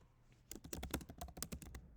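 Quick typing on a computer keyboard, a close burst of about a dozen crisp key clicks in an uneven rhythm lasting just over a second, after a short quiet start.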